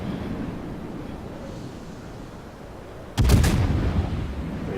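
A single heavy naval gun salvo from a North Carolina battleship in World of Warships bursts in loud and booming after a stretch of low wind-like ambience, then rumbles on as it fades.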